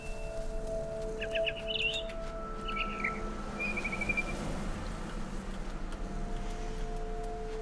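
A frightened barn swallow in What Remains of Edith Finch lets out a few quick chirps and trills early on, over steady outdoor ambience with a low hum.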